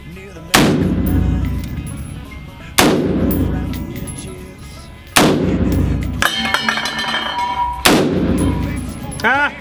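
AR-15 rifle shots fired during a magazine torture test, four loud, sharp reports spaced a couple of seconds apart, each ringing out with a long echoing decay, plus some clanking between shots.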